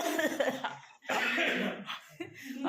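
A man coughs in a few harsh bursts close by, with brief gaps between them and light laughter and chatter from people around.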